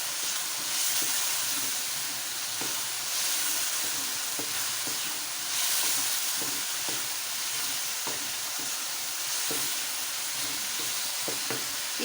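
Stuffing seasoned with turmeric and salt sizzles steadily in a pan for stuffed capsicum, with a continuous loud fry broken by scattered scrapes and taps as it is stirred.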